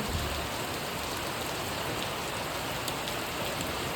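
Heavy first monsoon rain in Mangaon, Raigad, a dense continuous roar of downpour on surfaces, steady and close throughout.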